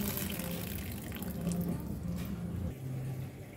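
Soaked chana dal is rinsed under running water in a kitchen, a steady close splashing and gushing flow with faint sloshing shifts throughout.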